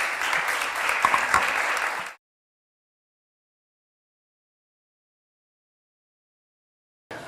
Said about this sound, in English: a hand of applause for a really great panel